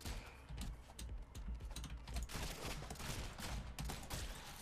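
Rapid clattery gunfire bursts from the video game Rounds, quiet and dense, crackling in quick succession throughout with no talk over it.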